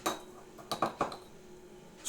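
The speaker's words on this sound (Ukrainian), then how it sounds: "Перемішуємо це все якісно. Добре перемішуємо." A metal tablespoon clinks against a glass or cup several times in quick succession while stirring warm water, close and crisp, with quiet pauses between strikes.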